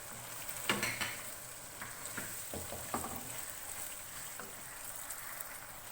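Green chicken hariyali curry being mixed in a pan after black pepper and lemon juice go in, soft stirring scrapes and a low simmering sizzle, quiet and close with no voices.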